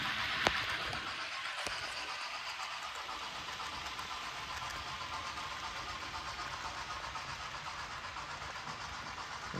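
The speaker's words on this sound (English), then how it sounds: "Train chugging along nicely." Model train pulled by a GE 44-tonner locomotive, running with a Pacific Fruit Express consist behind a Mogul, producing a continuous close motor hum and rolling rumble that stays steady throughout.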